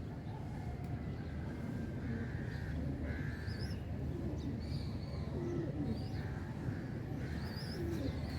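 Soft, low cooing of pigeons repeats against a steady background hum, with a few faint chirps from other birds.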